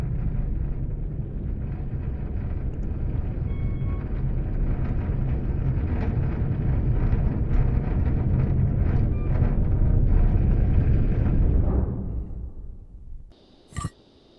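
A train rumbles steadily in the video game Syberia, a loud, dense rolling clatter that builds and then fades away near the end, followed by a brief sharp click.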